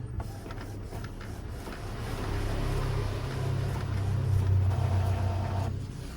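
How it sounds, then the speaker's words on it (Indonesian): An Epson L4150 inkjet printer runs a nozzle check print, giving a steady mechanical hum and whir that swells slightly partway through, close and continuous with no talk. "ini printer sudah mencetak nozzle"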